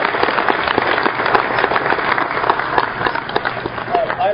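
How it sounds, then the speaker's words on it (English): A crowd applauds steadily, a dense wash of clapping that holds its level throughout. "Please, a round of applause for Poppy."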